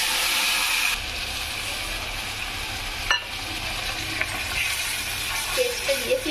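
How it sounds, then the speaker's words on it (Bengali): Spice paste stirred and fried with browned onions in a pan over low gas, giving a steady broadband sizzle throughout with a few faint scrapes and knocks of the spoon. "তো এইভাবে আমি নেড়ে মশলাটা ভেজে নেব।"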